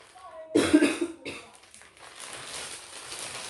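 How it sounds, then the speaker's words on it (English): Two or three close coughs in quick succession, loud and raspy, followed by quieter background noise and faint rustling. "I'm coughing, but it's not COVID."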